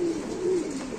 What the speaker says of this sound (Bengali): আরেক জোড়া কবুতর ইনশাআল্লাহ দেখাচ্ছি আপনাদের।